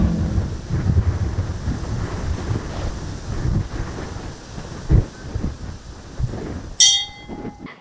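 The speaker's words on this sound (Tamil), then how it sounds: "காற்றும் மழையும் சாரலோடு துவங்கி ஆர்ப்பரிக்க துவங்கிவிட்டது" Wind gusts roar through a mountain forest at dusk during a rainy-season storm, a steady broadband rushing with surges, heavy and close to the microphone, ending with a brief sharp rattling burst.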